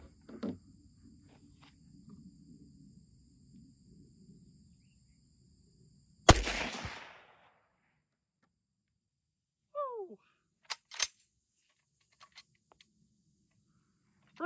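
An old military bolt-action rifle fires a single loud, sharp shot that rings out briefly, followed by several crisp metallic clicks and clacks from working the bolt. The surroundings are otherwise quiet, with a faint hum and no voices.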